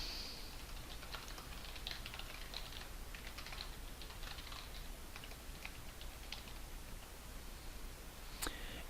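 An address being typed on a computer keyboard: a quiet, steady run of light key clicks over a faint background hiss, with a louder tap near the end and no one speaking.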